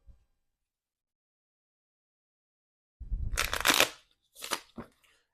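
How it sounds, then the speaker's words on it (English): Playing cards being shuffled up close after a stretch of silence, during a savings board game played with real cash: one long riffling burst, then two shorter quick flutters. "Give them a quick shuffle first."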